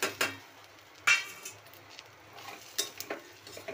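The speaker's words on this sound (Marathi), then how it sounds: "आता मी पावटा घालून घेते।" Pavta (field beans) being added to a pan of oil spiced with red chilli powder and turmeric, with spoon scrapes and clinks against the pan over a low background sizzle.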